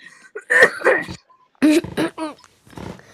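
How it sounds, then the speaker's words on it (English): A few harsh, throaty coughs in short bursts, close to the mic, with brief pauses between them. "hold on, I got a cough"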